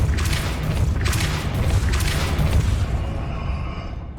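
A Depulso spell cast in Hogwarts Legacy lands as a loud, deep boom with a rumbling blast that swells and then fades away over a few seconds.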